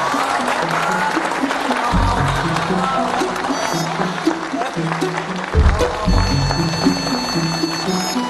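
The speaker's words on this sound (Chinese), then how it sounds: "大家掌声鼓励鼓励嘛" A gathered party crowd in a TV drama scene claps heartily. The steady applause runs throughout, partly under people talking nearby.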